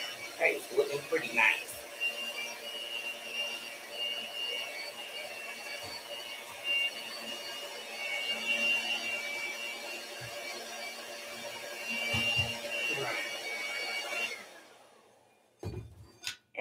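Electric stand mixer whirring steadily at its lowest speed while cupcake batter is mixed, a continuous mechanical drone under occasional light clatter, stopping near the end.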